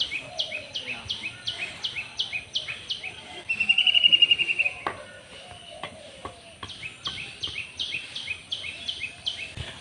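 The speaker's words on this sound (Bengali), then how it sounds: "পাখি কিচিরমিচির শব্দটা আমার কাছে খুবই ভালো লাগতেছে।" Morning birdsong outdoors: a bird repeats a quick series of sharp, high chirps in bursts, joined by one longer whistled trill midway, with faint clicks and insect-like buzzing underneath.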